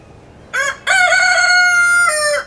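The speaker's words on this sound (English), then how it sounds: "This way I can let the chickens roam free and they can scratch around the forest" A rooster crows loud and close among free-ranging chickens scratching in a forest garden, with a brief opening note followed by a long, sustained harmonic call lasting about two seconds.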